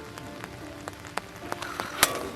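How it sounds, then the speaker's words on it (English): Rain falling on an outdoor wiffle ball field during a semifinal game, a steady wash of patter with scattered sharper drops and one louder tap near the end, no voices. "And the rain is coming back."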